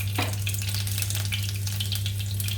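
Bay leaf, green and black cardamom and green chili sizzle steadily in hot oil in a pan as red chili powder is added, a constant close crackle over a low electrical hum with no talking.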